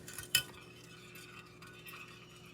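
Stirring Jell-O with a slightly bendable utensil, a quick clink against the bowl followed by soft, faint scraping and swishing movements, close by with no talking.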